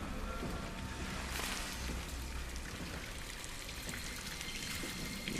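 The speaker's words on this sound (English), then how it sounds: "Well, I guess it's more than a little dripping. It's kind of a lot of dripping." Heavy, continuous dripping and pattering of oil in a derelict hallway in the horror game SOMA, a dense rain-like wash with splashy drops, steady and fairly close throughout.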